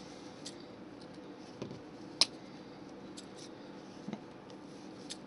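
Scissors snip through material while building a model castle scene in the Alps, giving a few quiet, sparse cuts and clicks against a faint room hush.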